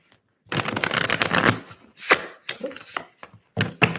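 Tarot cards shuffled by hand, a long close riffle followed by several shorter bursts of shuffling and taps, crisp and loud with brief silences between.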